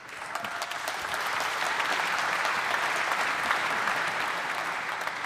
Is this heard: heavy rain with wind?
no